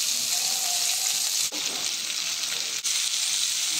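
Chicken pieces fry in about four tablespoons of oil in a frying pan, a loud continuous sizzle close to the ear with a couple of brief dips where the spoon stirs, and no voices.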